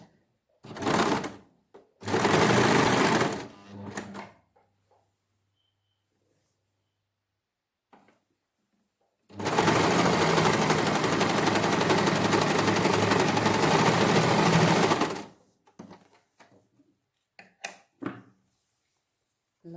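A sewing machine stitches lace onto a kameez neckline, running in several bursts: two short runs, a pause, then one long, steady whirring stretch before it stops, with faint handling sounds afterward.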